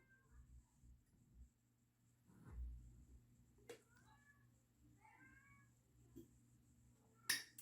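A cat indoors gives a few soft, brief meows against a quiet background. A couple of sharp clicks are scattered through the clip.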